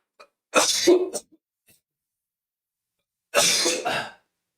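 A person coughs in two separate bursts a few seconds apart, each a quick cluster of harsh, close-up coughs with silence between them.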